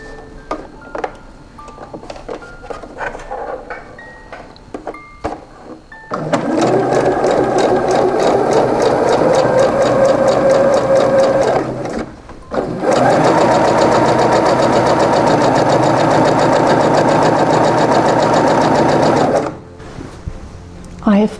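A sewing machine stitches a shirt collar pinned to the bodice, running in two long, steady, loud bursts with a short pause between, after some quieter handling noises at the start.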